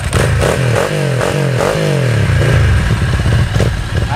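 A Ducati Mike Hailwood 900e motorcycle engine runs close by, a loud, throaty idle with a series of quick revs that rise and fall before settling into a steady rumble.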